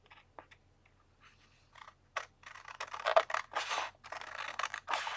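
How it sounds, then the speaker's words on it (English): Long scissors cutting paper while trimming a scrapbook calendar page: a series of close, crisp snipping and rasping strokes, sparse at first and then longer continuous cuts, with no talking. "Using the nice long scissors for this long cut."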